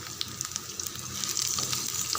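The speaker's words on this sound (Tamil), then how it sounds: "நல்லா வதக்கி விட்டுறலாம்." Potatoes and okra sauté in a pan with green chili and curry leaves, giving a steady, soft sizzle with faint stirring scrapes throughout.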